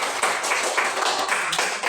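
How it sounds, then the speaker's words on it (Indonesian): A classroom of students clapping together in appreciation at the end of a group project lesson, a steady dense patter of hand claps filling the short moment without any talk. "saya ingin memberikan apresiasi sebagai tepuk tangan untuk kita semua ya"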